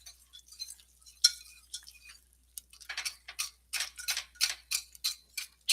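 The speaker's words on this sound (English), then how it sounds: "let's continue with this whisking montage" A whisk beats a gummy mixture, first in light, uneven taps and then in a quick, regular run of clicking strokes against the bowl, close and clear with no talking.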